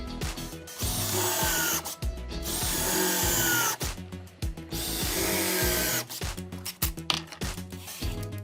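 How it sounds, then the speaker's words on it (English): A power drill drives 1 1/4 inch screws into the wooden legs of a cornhole board, with several whirring bursts of a few seconds each, separated by short pauses, close and loud. "we're going to use are 1 1/4 inch screws to fasten this brace to the legs"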